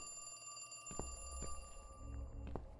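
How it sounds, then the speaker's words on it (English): Repeated ringing of a phone inside The Cat Lady video game, a few evenly spaced electronic rings over a steady humming background, fairly quiet and with no one speaking. "Is that a phone ringing?"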